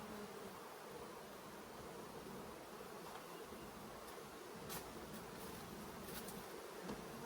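Honey bees buzzing around backyard beehives, a dense steady hum of many insects close by with a few louder passes, and no voices.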